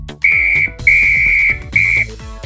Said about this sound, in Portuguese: E um apito!